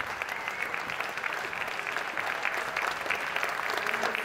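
Applause from members of Venezuela's National Assembly honouring a commander's birthday, dense and continuous but somewhat distant, holding steady through the moment without a clear voice above it.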